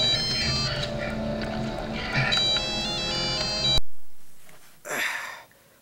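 A satellite phone plays a bright electronic ringtone jingle in Jurassic Park III. It rings steadily and loudly, then cuts off abruptly, followed by quieter rustling and a brief burst of noise.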